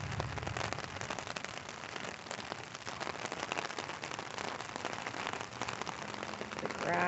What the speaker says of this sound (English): You can see some of the rain hitting the top of it.